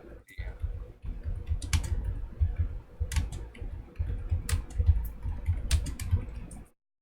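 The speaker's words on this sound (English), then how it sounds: "I don't have really the skill of talking and typing at the same time." Close, rapid keystrokes on a computer keyboard come in steady bursts with brief pauses as a direct message is typed, then stop abruptly near the end.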